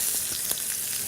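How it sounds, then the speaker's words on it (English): Steady, bright sizzling of fish fillets frying in a hot pan, with a few soft pops, close and continuous. "that's exactly what you want to hear, this sizzle. The pan is nice and hot."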